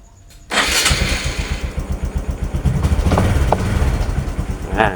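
A Honda Wave 125i motorcycle engine cranks and catches about half a second in, then settles into a loud, steady, pulsing idle close by, with a brief higher burst near the end.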